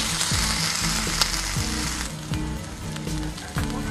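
Potato peels frying in a pan with tomato, a steady loud sizzle with stirring scrapes and clatters at irregular intervals throughout.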